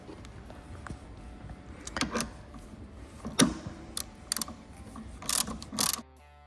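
A hand ratchet tightens a bolt while TricLED Canyon floorboards are installed. Several short, close clicking bursts come at irregular intervals over a quiet background, with no talking.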